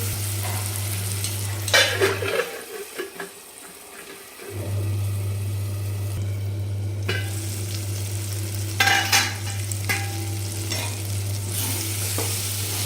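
Tomatoes and curry leaves cook covered over a low gas flame, giving a soft steady sizzle with a constant hum behind it and a few brief clatters of lid or pan.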